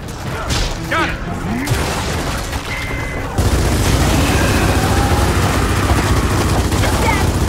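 A frag grenade goes off in a Gears of War 4 campaign battle, a heavy boom that gives way to a sustained rumbling roar, preceded by shouted voices and scattered gunfire.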